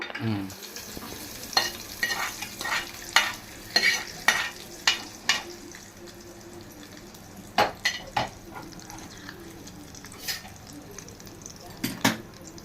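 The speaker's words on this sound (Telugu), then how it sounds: "తాలింపు వేసేస్తున్నాను" Tempering spices sizzle steadily in oil in a pan while a spoon scrapes and clinks against metal, with sharp clattering taps scattered throughout. Close and fairly quiet.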